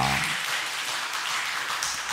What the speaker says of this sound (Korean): 스스로를 위해서 격려의 박수 한번 해주시길 바랍니다